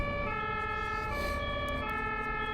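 A European emergency vehicle's siren wails in a steady, tonal, wavering pitch at moderate distance, faint road noise beneath and no talk.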